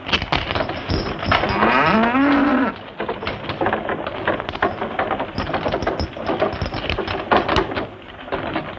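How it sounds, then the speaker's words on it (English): A cow lows in a long, loud, wavering moo against an outdoor frontier-fort setting, followed by dense clattering ambient noise and movement. "I'll milk the cow."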